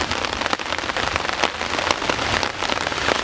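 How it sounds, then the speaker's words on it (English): Rain patters steadily on a tarp shelter on Saddleback Mountain, a dense, close crackle of drops with occasional heavier hits and no voices. "Still raining."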